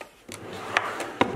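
A makeup drawer in a cosmetics collection slides and knocks shut, giving a few sharp wooden clacks and thumps close by, spaced about half a second apart.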